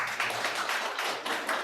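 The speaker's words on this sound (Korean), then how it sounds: "박수 부탁드립니다." A lecture event audience applauds in a short, dense burst of clapping, fairly soft and steady with slight pulsing and no voices over it.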